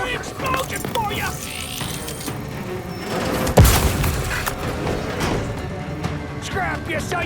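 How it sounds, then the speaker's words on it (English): A sharp explosion thumps mid-clip amid scattered gunfire bursts during combat in The Outer Worlds 2, with game voices chattering throughout. "Explosion for you!"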